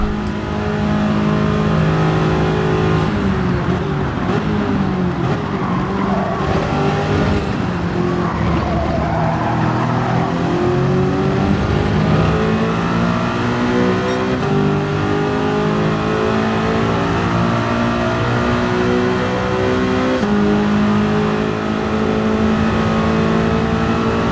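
A race car engine in Gran Turismo 7 screams at high revs through a Le Mans endurance race, with loud, sustained harmonics rising and falling through gear changes for the whole stretch, and no talk over it.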